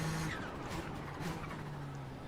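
Race car in the iRacing sim game, its turbocharged engine droning steadily with faint rising whines from the turbo spooling, fairly quiet throughout.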